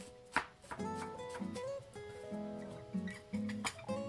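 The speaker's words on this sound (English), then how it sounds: "I am slicing up some red onions" A knife slicing red onions on a cutting board, a few faint, irregular chops set against a sustained tonal hum in a quiet kitchen.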